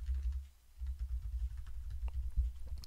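Rapid keystrokes on a computer keyboard while text is entered for an infographic, a steady close clatter of soft uneven taps running throughout with no talking.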